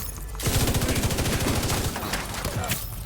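Rapid automatic gunfire in the video game The Division 2, a dense loud burst of fast repeating shots lasting a few seconds, with game voices mixed in.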